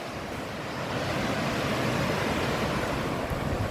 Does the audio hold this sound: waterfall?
yes